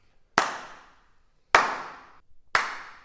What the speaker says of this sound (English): when you're recording hand claps, you always need someone whose timing's crap